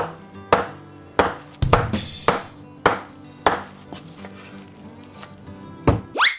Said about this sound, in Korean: 내려치면서 당겨오는 게 확실하게 잘 썰려요